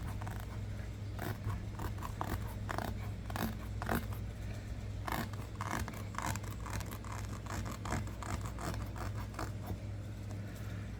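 A thick-bladed Shed Knives knife saws and scrapes into a rubber tire, giving repeated gritty cutting strokes over a steady low hum, close and fairly loud with no talking.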